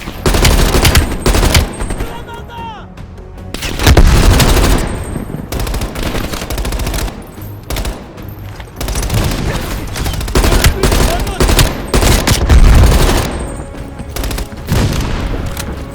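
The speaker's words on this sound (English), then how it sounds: "Val, take out that MG." Heavy machine-gun fire and explosions from the video game Call of Duty: Black Ops Cold War come in dense, loud bursts of rapid shots, with booms and battle noise throughout.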